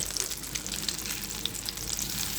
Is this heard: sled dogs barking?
no